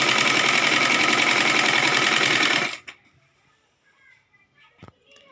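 A sewing machine runs steadily at a fast, even buzz while single-stitching panels of a Rajputi lehenga, then stops abruptly, leaving near silence with a few faint handling clicks.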